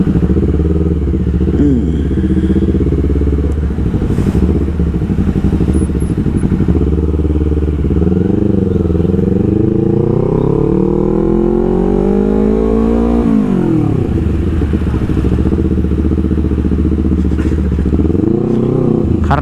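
A Honda CBR250RR motorcycle runs loud and close on the road, its high-revving engine climbing and falling through repeated gear changes with a steady buzzing drone throughout.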